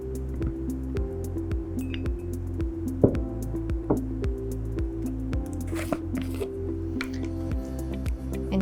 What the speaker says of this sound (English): Add a little bit of cleaning fluid in here.